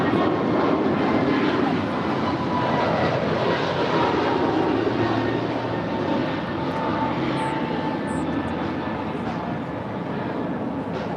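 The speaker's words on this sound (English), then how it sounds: "It's an A321neo blasting off here on the south side on 25 right." An Alaska Airlines A321neo jet takes off from runway 25 right at LAX, a loud sustained roar of engines that holds steady and close for the whole stretch, with no talk over it.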